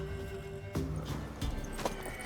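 A mare in The Witcher 3 is heard through game audio as hoof clops and a horse vocalization, moderately loud over a steady low background bed.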